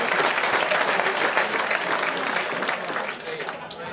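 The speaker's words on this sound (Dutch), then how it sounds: "Een heel groot applaus, dames en heren, voor de sporter van het jaar 2016" Loud, dense applause from a gala audience at a sports and business awards show greets the sportswoman of the year 2016, sustained and slightly tapering near the end.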